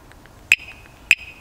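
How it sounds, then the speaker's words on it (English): An aftermarket car alarm horn gives two short, sharp chirps about half a second apart, loud and close by, with near silence in between. "I'll let you guys now hear the alarm from up close."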